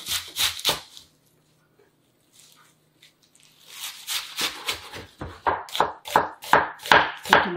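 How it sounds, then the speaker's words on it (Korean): Knife chopping garlic chives (buchu) into thirds on a cutting board for summer chive kimchi: a few quick close chops, a pause with light handling, then a steady run of crisp rhythmic cuts, with no talking. "먹기 좋은 크기로 썰어서 담는데 저는 3등분 할게요."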